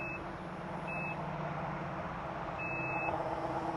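Three electronic beeps from a Mazda liftgate setting its opening height, two short then one longer, sound clearly over a steady low engine hum.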